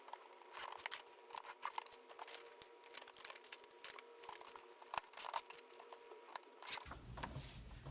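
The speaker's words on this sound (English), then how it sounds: "all you have to do is cut around the perimeter of the insert" Scissors cut around a printed paper PPCO insert in quick, close snips, a dense run of crisp cuts and rustles with no talking.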